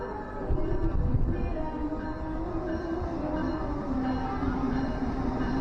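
A train at a long railway station platform in Indonesia gives a steady low rumble of engine and wagons close by, with faint squeal and rolling noise throughout and no talk.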